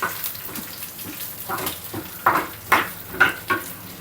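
Lentils and curry leaves fry in hot oil for lemon rice, giving a steady close sizzle with repeated scraping and stirring strokes in an uneven rhythm.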